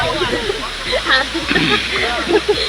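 Katibawasan Falls roars as a steady wash of falling water under a person talking close by.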